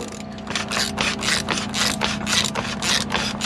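A ratchet clicks in quick rhythmic strokes while snugging down the fuel filter cap on a Ford 6.0 diesel, close and loud with steady repeated bursts.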